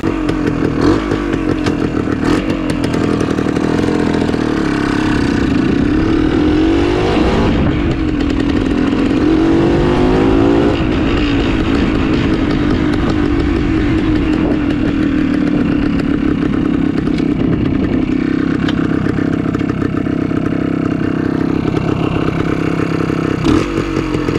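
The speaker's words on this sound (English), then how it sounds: "the bike is out there warming up. I'm going to throw you guys on the helmet, go for a ride." Vintage Suzuki TS250 motorcycle engine running loud and close, with a rough, rapid two-stroke-like buzz that rises and falls as the throttle changes and the bike rides off.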